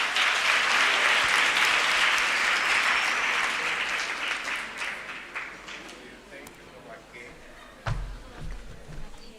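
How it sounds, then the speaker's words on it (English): An audience at a career day breaks into a loud round of applause that gradually thins and fades, with a brief thump and a voice near the end. "Let's give him a round of applause."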